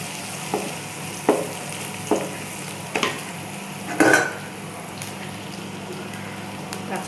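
Onions frying lightly in a pan give a steady soft sizzle, broken by about half a dozen spaced clinks and scrapes of stirring.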